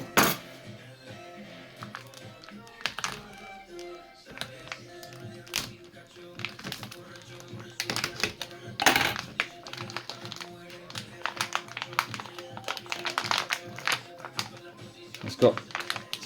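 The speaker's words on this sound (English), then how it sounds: "let's open up the packaging and take a look inside" Plastic packaging of a vegan bacon product being pulled open, giving close, irregular crinkles, taps and sharp cracks in scattered bursts, with a voice talking at times.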